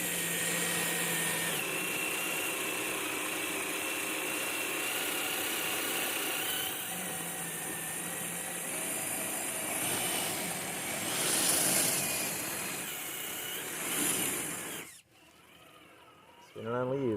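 Wheels of a Traxxas TRX-6 RC truck spin on leaves buried under snow on a steep slope, giving a continuous whirring motor whine that ends abruptly near the end, with a voice talking over it.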